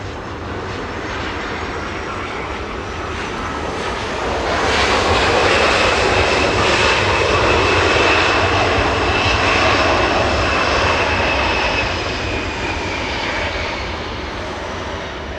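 An airliner departing Los Angeles International Airport roars in a broad, sustained jet rumble that swells to a loud peak mid-way, with a steady whining tone riding on top, then eases slightly while staying strong.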